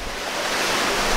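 Water flows steadily through a koi pond filtration system with two pumps, a special backing chamber and bio ball media, a continuous close rushing wash with no break across the short span.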